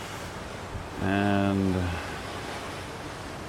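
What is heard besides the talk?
wind blowing on cruise ship deck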